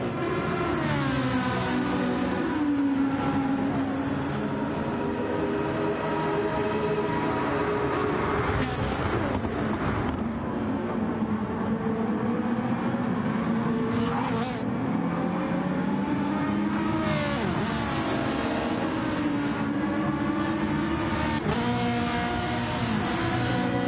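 GT race cars roar around Interlagos in a racing video game, a loud, continuous engine howl that rises and falls through gear changes, with several cars sweeping past close by.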